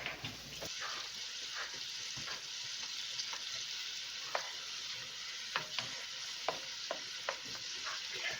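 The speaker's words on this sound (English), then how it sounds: "we're going to cook like this until those veggies get clear" Vegetables frying in a pan for stuffing, a steady soft sizzle with occasional stirring scrapes and clicks, close and moderately quiet, with no talk.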